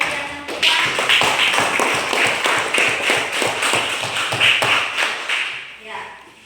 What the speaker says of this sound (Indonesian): Mari kita sekali lagi berikan aplaus untuk kegiatan kita